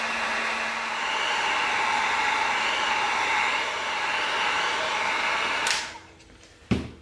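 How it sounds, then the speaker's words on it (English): A heat gun blows a loud, steady, hair-dryer-like roar onto EVA foam for several seconds, then cuts off and fades, followed by a single sharp click. "Now we're going to use our heat gun. We're going to separate that crease."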